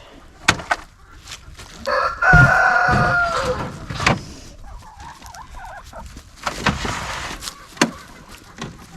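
Backyard chickens cluck and a rooster crows, with loud calls around the two and six second marks and scattered clucks and squawks between, fairly close.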